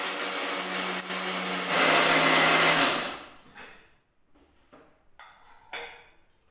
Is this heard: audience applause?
no